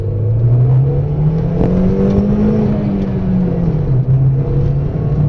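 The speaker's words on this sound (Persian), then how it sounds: "شتاب نسبتا عالی داره، الان میریم بهتون نشون بدیم" A restored SLX car's engine drones loudly from close by as it accelerates, the engine note climbing steadily then dropping briefly at a gear change before pulling again.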